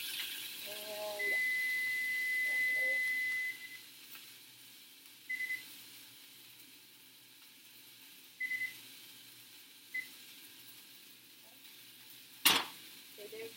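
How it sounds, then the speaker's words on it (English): Low steady sizzle of chicken frying in a pan, with a few sharp clinks of utensils and a louder clatter near the end. "our chicken is sizzling"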